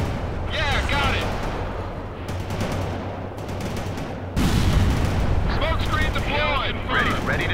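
Battlefield gunfire and artillery in the World in Conflict strategy game: a constant roar of shots and explosions, louder from midway, with radio-style unit voices talking over the combat.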